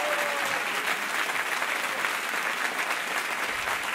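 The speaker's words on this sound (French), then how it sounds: "Ah ben ça tombe bien que vous m'applaudissiez" Sustained, dense applause from an audience at a political speech, a steady wash of many hands clapping at even loudness with no talk over it.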